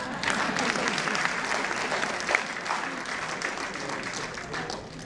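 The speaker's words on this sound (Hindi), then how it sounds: "एक बार मेरे सम्मान में तालियां बजा दो" Audience applause at a Hindi poetry tribute event for Maya Govind, a steady dense wash of clapping lasting throughout, fairly close and even with a slight swell midway.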